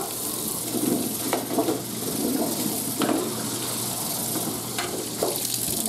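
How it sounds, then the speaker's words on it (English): Water runs over a cutting mat to rinse soap off it, making a continuous splashing hiss with a few louder gushes as the flow shifts, close by and with no voices. "I'm just going to rinse that one off"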